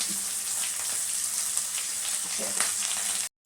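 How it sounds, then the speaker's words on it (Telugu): Onions, curry leaves and black gram frying in hot oil in a pan for a bottle gourd sambar, a steady close sizzle running throughout with a few stirring scrapes, no talk. "ఇప్పుడైతే కొంచెం ఆనియన్స్ వేసిన తర్వాత కొంచెం కరివేపాకు."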